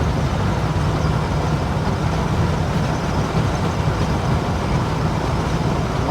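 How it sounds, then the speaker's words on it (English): Holden HK car engine straining at red line while driving, a loud steady broadband roar of engine and road noise heard from inside the car without a break. "My tacho's redlining."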